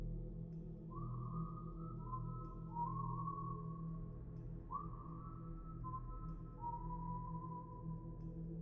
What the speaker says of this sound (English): The whistling started.